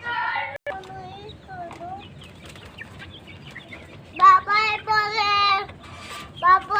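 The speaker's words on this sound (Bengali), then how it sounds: "এটা আমার পাহাড়ি মুরগি।" A hill chicken lets out a few close, short clucking calls in bursts toward the end, with quieter voices and background noise in the first part.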